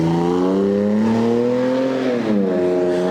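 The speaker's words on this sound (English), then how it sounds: "Right now we're gonna get a quick flyby just so you guys hear it from the outside." A Toyota Tacoma pickup with an AWE true dual exhaust gives a loud, deep engine rumble and throaty exhaust drone that holds steady, then dips and rises slightly in pitch as it passes close by.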